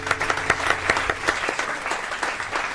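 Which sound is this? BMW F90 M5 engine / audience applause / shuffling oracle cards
audience applause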